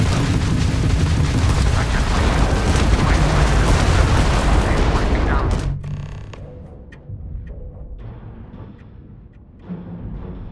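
Spaceship combat in Starfield, with heavy, roaring blasts and rumbling explosions for several seconds, then a sudden drop to quieter scattered pops and bursts, one more thump near the end.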